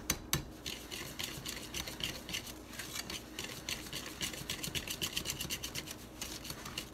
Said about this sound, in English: And I'm just using my whisk, so we'll get this cream together.